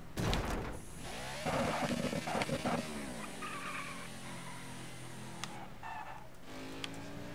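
A NASCAR 21: Ignition stock car spinning out at Phoenix in the game, with loud tires screeching and skidding over a droning engine whine, then the engine revving and shifting as the car recovers.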